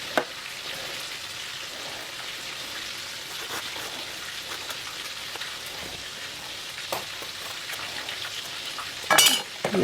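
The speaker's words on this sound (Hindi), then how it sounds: "इसको बस आपने जल्दी जल्दी से हाई हीट में फ्राई करनी है।" Eggplant slices fry over high heat in hot oil, producing a continuous crackling sizzle with small popping spatters, a few sharper clinks of utensils, and a louder scrape or clatter near the end.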